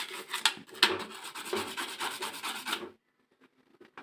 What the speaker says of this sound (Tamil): ஃபுல்லாக ப்ரெஷ்ஷில் வந்து வாஷ் பண்ணிடலாம்